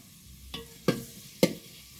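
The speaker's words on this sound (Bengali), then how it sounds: "প্রথমে তেল দিলাম তারপর পেঁয়াজ কুচি দিয়ে তারপরে এই যে চুলায় নাড়াচাড়া হইতেছে" Chopped onion frying in oil on a stove for a bilimbi and fish sour curry is stirred, giving three sharp, close scrapes against the pan over a faint background hiss.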